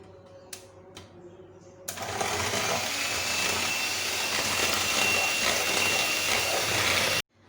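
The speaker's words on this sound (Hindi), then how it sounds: "इसको आपने इतना बीट करना है कि ये क्रीमी फॉर्म में आ जाए।" Electric mixer beating icing sugar and ghee into a creamy mix, starting after a couple of faint clicks and then running as one steady, loud whirring drone for about five seconds before stopping abruptly.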